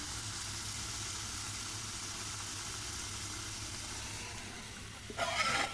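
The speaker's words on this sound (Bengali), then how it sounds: "ভেজে রান্না করে নিচ্ছি" Shrimp frying in a pan for mango shrimp, a faint steady sizzle and hiss with a brief louder burst of crackling near the end.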